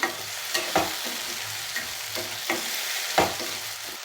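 Chopped tomatoes fry for a prawn thokku with a continuous close sizzle, broken by regular spoon-scraping stir strokes in the pan.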